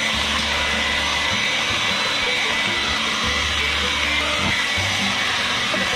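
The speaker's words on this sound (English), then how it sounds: "So stand by for the blow dryer." Blow dryer running continuously at close range to melt ice in an RV refrigerator, a loud, steady whooshing roar with slight shifts in pitch as it is moved about.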